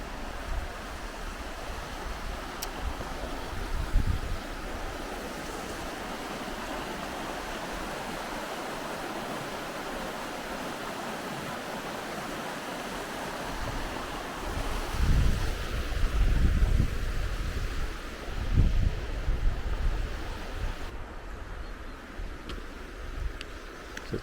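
The River Wharfe flowing through an upland valley: a steady, continuous rushing of water mixed with wind buffeting the microphone, swelling louder in a few gusts toward the end.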